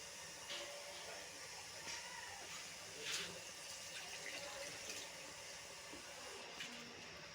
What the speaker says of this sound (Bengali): এইখানে হাত ধোয়ার জল আছে, না হাত ফাত ধোয়া হয়।